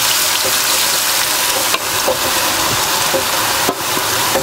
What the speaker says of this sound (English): So we've got the onions frying, the crushed onions frying now